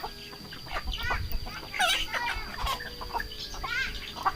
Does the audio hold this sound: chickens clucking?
yes